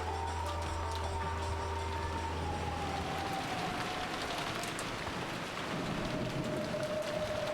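Pouring rain in the visual novel game Umineko, a dense, steady hiss of heavy rainfall with a low rumble and faint tonal hum beneath, continuous and moderately loud.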